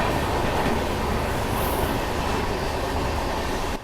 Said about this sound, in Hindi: अब ये किसी ट्रेन को तो हम पैरेलल में ओवरटेक कर रहे हैं, वो ट्रेन बहुत ही स्लो चल रही है